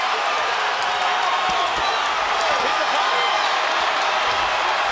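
Boxing arena crowd cheering for Terence Crawford, a dense, steady roar of many voices with scattered whoops and claps, heard at a distance under a commentator's talk.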